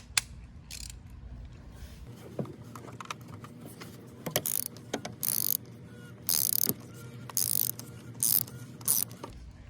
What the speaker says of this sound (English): grab your 24mm socket again. Go ahead and tighten it up fully.